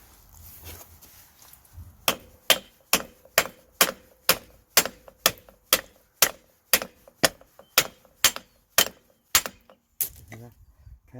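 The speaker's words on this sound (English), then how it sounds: "so you're going to use a hammer" A hammer taps out a worn Ford Transit CV joint with excessive play: about eighteen sharp metallic strikes in a steady, evenly spaced rhythm, close and loud, after brief handling noise.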